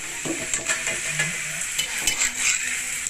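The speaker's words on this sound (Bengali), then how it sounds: "এবারে গোল বিস্কুটগুলোকে আমি তেলে ভেজে নেবো" Round flour biscuits deep-fry in oil with a soft, fairly quiet bubbling hiss, broken by a few light scrapes and clinks of a utensil.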